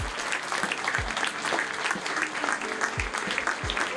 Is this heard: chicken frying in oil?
no